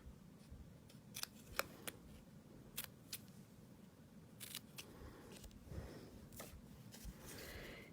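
Scissors snip through paper for a handmade card, a handful of crisp, separate cuts spaced unevenly over a faint room hush, close and quiet.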